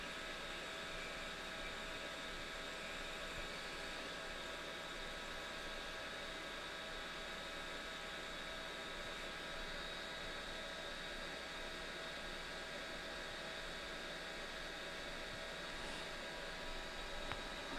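A hot air rework tool blows steadily over the charging port area of a Nintendo DS Lite, producing a faint, even hiss that stays constant throughout with no talking.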